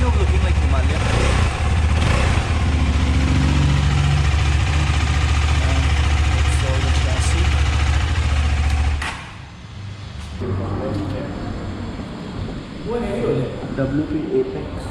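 A KTM 390 Adventure motorcycle idles with a steady, low, throbbing engine rumble that holds for about nine seconds, then drops away to a quieter, uneven background.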